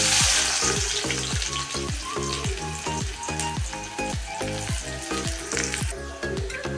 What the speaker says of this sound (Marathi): तेल छान गरम झाले आहे। यात बारीक चिरलेला कांदा टाकून घेऊया।